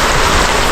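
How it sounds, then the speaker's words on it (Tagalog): Heavy rain pours down in a steady, dense hiss that fills the short moment, loud and close with no voices. "Umulan na naman po ng napakalakas."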